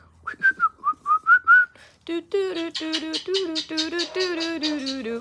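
A cockatoo whistles a lilting, wavering tune of short repeated notes, then shifts to a lower, bouncing series of whistled phrases, close and clear.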